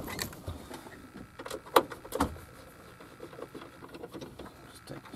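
Screws being removed from the dash head unit of a 1997-2001 Jeep Cherokee XJ: faint small clicks and rattles with a couple of sharper metallic ticks midway, quiet and close, no talk.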